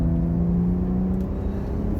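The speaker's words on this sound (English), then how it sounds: "this is powered by BMW's N55 engine, which is a silky smooth 3-liter inline-6 with one large twin-scroll turbocharger" BMW X4 M40i with the N55 3-liter inline-six and single twin-scroll turbo, pulling at a steady, smooth drone with a constant engine tone and no talk.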